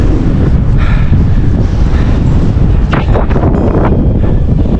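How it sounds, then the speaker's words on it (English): Strong wind buffets the microphone on a hillside hike near Coumshingaun Lake, a loud, continuous roaring rumble with gusty swells and no speech. "the wind is definitely picking up now"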